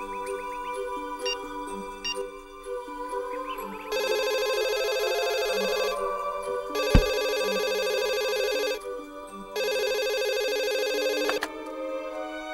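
An electronic telephone ringtone sounds indoors in repeated bursts of about two seconds each, with pauses between, clear and close with no talking.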